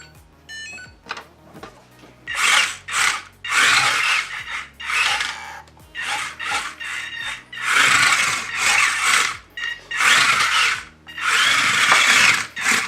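Antweight combat robot Subdue runs in repeated bursts, loud whirring and squealing drive motors that rev up and cut off in an irregular rhythm, with brief quiet gaps between runs.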